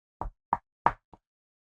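Four sharp knocks on a wooden surface, close and alone in silence, the first three evenly spaced and the last one lighter and quicker.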